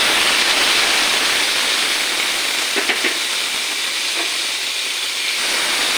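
Small puti fish go into a hot pan with browned garlic and onion, raising a loud, constant hiss of sizzling oil that holds steady from start to finish.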